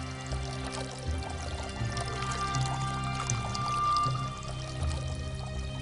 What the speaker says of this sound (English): One jar of water steadily running into another.